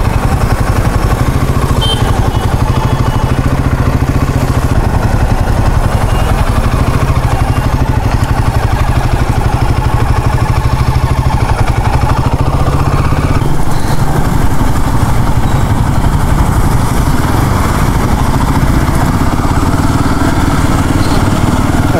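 A Royal Enfield Himalayan 450 motorcycle on a highway test ride, its engine droning loud and constant throughout with a mid-range rumble, a slight shift in tone partway through, and wind noise mixed in, with no talking.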